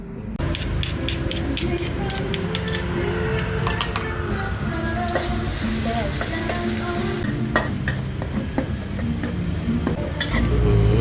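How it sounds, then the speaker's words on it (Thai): Stir-frying in a pan, likely ridge gourd with egg, a continuous sizzle with repeated scraping and clinking of a utensil against the metal pan, close and loud, with faint talk in the background. "เดี๋ยวแม่ไปผัดก่อน"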